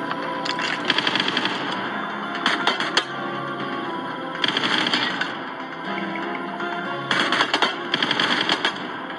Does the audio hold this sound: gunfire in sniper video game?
yes